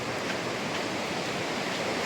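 A river swollen with floodwater rushes steadily, its broadband roar continuous and close with no break or voices.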